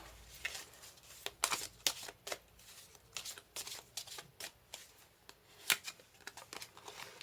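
Fairy oracle cards shuffled by hand, quiet and close: a series of brisk riffling bursts and soft flicks in an irregular rhythm, with no speech.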